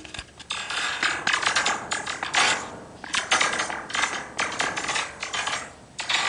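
A bare wire resting on a block of Styrofoam, with the foam amplifying it, gives off a continuous crackling, ratcheting buzz. The sound is dense and mechanical, surging in uneven bursts throughout and close and fairly loud.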